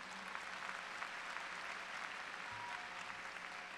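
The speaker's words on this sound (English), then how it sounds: "Let's give them a round of applause." An audience at a 2018 undergraduate commencement ceremony applauds steadily, a faint, distant wash of clapping from a large crowd in a big space, even throughout with no talking.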